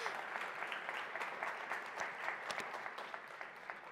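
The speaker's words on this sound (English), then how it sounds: "I appreciate whoever clapped" Scattered audience clapping at a talk, a modest, fairly faint patter of hands lasting a few seconds.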